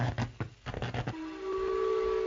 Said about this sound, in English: That's whistling from the spire part.